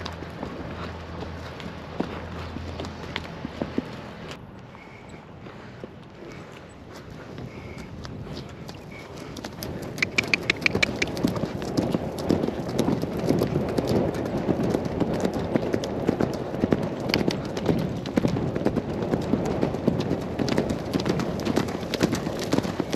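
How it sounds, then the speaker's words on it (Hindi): A horse galloping, its hooves drumming in a fast, steady rhythm that starts about halfway through after quieter walking, close by with wind noise on the microphone. "आज जाएंगे गैलप, देखते हैं लास्ट एंड फाइनल इसका गैलप है"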